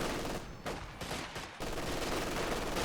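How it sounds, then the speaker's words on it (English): Rapid automatic machine-gun fire in a WWII real-time strategy match between US Forces and Wehrmacht armies, a dense continuous rattle of shots with a short lull in the middle, loud and steady with no talk. "So, Von's just rushing headfirst into an MG there."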